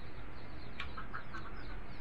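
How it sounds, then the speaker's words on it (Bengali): Ducks in a coop give a few short, faint quacks over a steady background hum, with several calls close together near the middle. "তো এখানে হচ্ছে ওই হাঁসগুলোকে রেখেছি"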